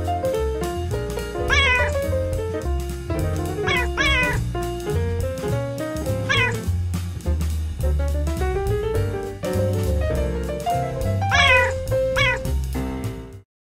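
A cat meows repeatedly at a home patio, several rising, drawn-out calls spread across the stretch, fairly close and moderately loud over a steady background hum.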